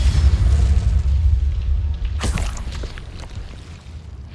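A Bombarda spell blasts in Hogwarts Legacy, a deep rumbling boom with heavy low-end that swells at once and rolls on, with a sharper crackling burst near the middle before it fades.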